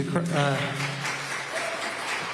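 Scattered audience applause at a Washington governor's debate in the Fox Theater, a rough clapping wash running throughout underneath someone speaking.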